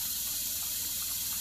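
A water-methanol injection line sprays water in a continuous hissing rush during a test, steady and close with no breaks and no talk.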